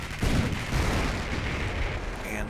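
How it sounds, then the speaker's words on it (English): Anti-tank gun firing in the Company of Heroes game, a few low booming shots over a rumbling battlefield din with no voice over it. "anti-tank gun is taking some shots"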